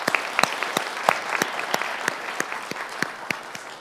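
An audience claps to welcome the chief guest at a BUET student shadow-parliament debate, with brisk scattered hand claps at moderate loudness filling a few seconds with no voices over them.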